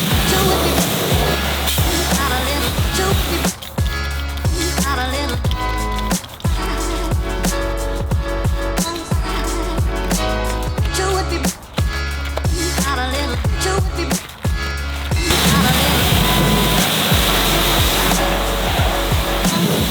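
Water sprays hard and steadily onto the wheels of a 1974 Euro BMW 2002Tii during a wash. The hiss is loud and close, and its texture shifts partway through as the spray moves across the wheel, with no talking.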